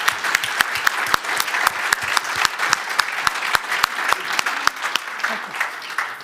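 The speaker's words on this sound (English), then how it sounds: "maybe a round of applause for Ireland's newest heroes at United Back" A conference audience at the GIRP Supply Chain Conference 2022 in Dublin bursts into sustained applause, with many hands clapping densely and steadily from start to finish, close and fairly loud, and no talking.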